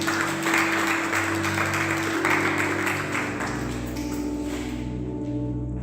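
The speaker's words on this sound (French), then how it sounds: "Est-ce qu'on peut acclamer le Seigneur encore?" A church congregation applauds and cheers the Lord during a French-language sermon, a dense, steady wash of clapping that fills the space, with music or organ tones sustained beneath it and the crowd fading slightly toward the end.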